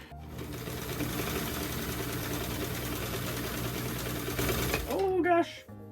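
A sewing machine stitches a top at a fast, steady rattling pace for about five seconds, close and fairly loud, then stops abruptly and a voice speaks briefly.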